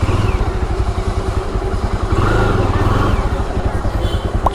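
A Jawa Bobber 42 motorcycle riding in first gear, its engine thumping in a close, steady rhythm with a brief swell in revs midway, under someone speaking.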